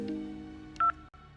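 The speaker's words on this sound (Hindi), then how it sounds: "ये फोन प्रिया की मां सरला वर्मा ने किया था।" A telephone in a Hindi audio drama gives a short electronic tone burst over a low steady hum, followed by a brief dropout; it reads more as a dial tone or beep than a full ring.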